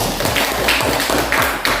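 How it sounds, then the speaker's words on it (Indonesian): Brief applause in a classroom as students clap for the first discussion group, a short cluster of close, light claps lasting under two seconds. "Tepuk tangan dulu untuk kelompok 1"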